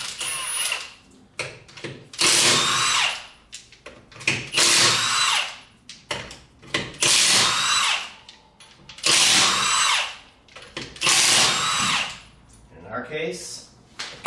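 Repeated loud bursts of a pneumatic impact wrench spinning off lug nuts from a 2004-2014 Ford F-150 wheel, rattling hammer blows in several long runs with short pauses and quieter handling noises between.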